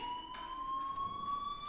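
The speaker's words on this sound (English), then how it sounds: "Hey, do you hear that fire alarm?" A steady, high electronic fire alarm tone from Life is Strange holds continuously, with faint pulsing overtones and a muffled background hum beneath.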